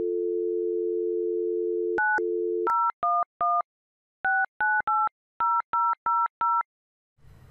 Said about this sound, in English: You can dial international numbers.